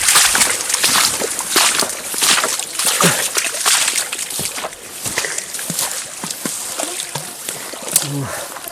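A homemade quad bike drives through standing water on a flooded forest road, its wheels throwing up continuous sloshing and splashing over a steady engine rumble, close and fairly loud throughout.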